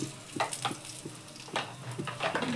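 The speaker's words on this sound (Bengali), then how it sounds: "সেটাই তেলে আমি একটু ভেজে নেব" Dry-roasted ground spice powder sizzles and fries in hot oil in a pan for a shukto, with soft crackling and brief stirring scrapes at close range and no talking.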